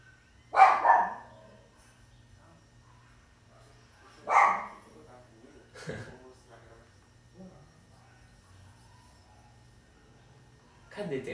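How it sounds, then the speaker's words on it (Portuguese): Dogs barking indoors in response to other dogs, a few sharp, loud barks spaced several seconds apart with quieter gaps between them. "os cachorros estão latindo aqui para os cachorros que estão latindo aqui"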